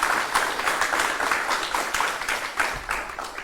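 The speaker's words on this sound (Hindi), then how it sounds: "प्लीज जोरदार तालियों से स्वागत कीजिए" Steady studio applause welcoming a retired lieutenant general as a guest on a Hindi television show, a continuous clatter of many hands at moderate loudness lasting the whole few seconds.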